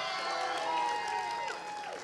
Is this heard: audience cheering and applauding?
yes